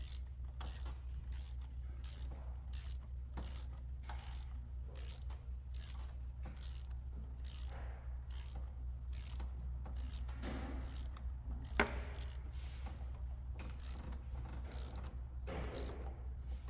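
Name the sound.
ratchet tightening a spark plug into the engine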